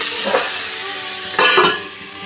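Masala with Kashmiri red chili powder sizzles loudly in hot oil, a dense continuous frying hiss broken by a few louder bursts where it is stirred, with no talking.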